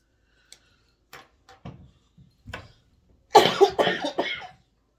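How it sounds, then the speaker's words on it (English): A few faint scattered sounds, then a burst of harsh, close coughing in several quick hacks before trailing off. "So that cough, it means that thank God my lungs are healthy."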